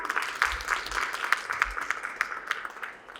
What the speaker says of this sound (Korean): 동의신다면 박수 부탁드리겠습니다.